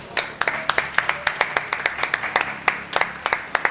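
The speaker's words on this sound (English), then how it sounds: "Can we give them a round of applause?" Audience at a charity karting event clapping, a close burst of sharp, rapid individual claps from a small group, continuing steadily without voices.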